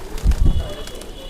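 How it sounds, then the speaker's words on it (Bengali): Teddy pigeons coo close by in a loft, a few short, loud, low throaty bursts clustered together before fading into quiet background hiss. "এটাও টেডি কবুতর"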